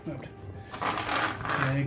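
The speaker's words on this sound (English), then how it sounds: "Just roll 2 dice now." Dice rattle and clatter across a tabletop during a Warhammer 40K game between Death Guard and Blood Angels armies, a short burst of rolling under nearby conversation.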